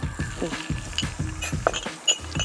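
Fenugreek, mustard seed and ginger fry in a pan over low flame, a light crackle and stirring scrape under a voice talking close by.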